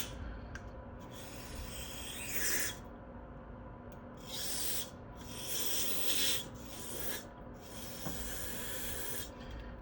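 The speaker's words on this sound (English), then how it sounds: "let's go through a couple of these passages lightly with some brake cleaner." Brake cleaner sprayed lightly through the passages of a 1975 Honda XL125 motorcycle carburetor, heard as several short, quiet hissing bursts separated by pauses over a low steady background.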